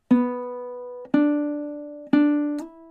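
Three slow, ringing plucked notes of a riff on a low G ukulele, each sliding up in pitch and sustaining about a second before the next attack, played alone and close.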